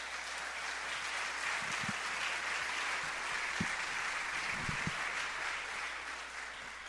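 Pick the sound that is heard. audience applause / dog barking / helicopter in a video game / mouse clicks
audience applause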